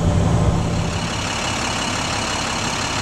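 A heavy truck engine rumbles steadily at close range, a loud broadband diesel roar with no pause, heard alone without voices.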